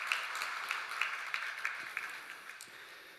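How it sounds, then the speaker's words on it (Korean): A church congregation claps together during a Sunday worship service, a soft, fairly distant patter of hands that carries on evenly for a few seconds before slowly fading. "우리 다시 한번 축하의 박수 하도록 하겠습니다"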